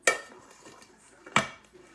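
Metal cake pan from a chocolate banana cake set down on a counter, two sharp close clanks about a second apart, each ringing briefly.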